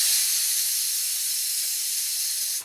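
A pressure cooker vents steam while cooking paneer, a steady, bright hiss that holds level for a few seconds before cutting off abruptly.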